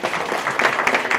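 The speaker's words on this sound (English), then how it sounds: "Give yourself a round of applause." An audience at an evening lecture event applauds with dense, steady clapping from many hands, a brief burst of about a second.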